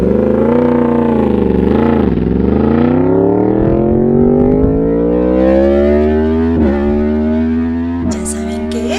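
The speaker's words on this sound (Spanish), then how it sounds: "Es la moto" A motorcycle engine revs loud and near, its pitch dipping and then climbing steadily over several seconds as it accelerates, with a short clatter at the end.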